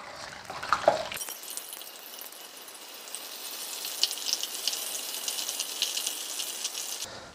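Oyster mushrooms deep-fry in moderately hot oil, beginning with a short clatter as they drop into the pan, then a dense, steady crackling sizzle that holds close and bright until it cuts off.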